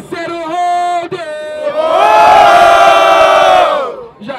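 Crowd at a rap battle roaring to call for a third round: a short rising group shout, a brief break, then a loud sustained cheer from many voices that swells and fades away.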